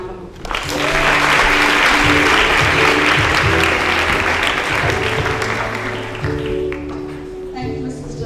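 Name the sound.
audience applause at school awards ceremony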